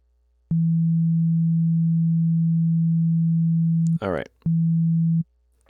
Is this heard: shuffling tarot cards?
no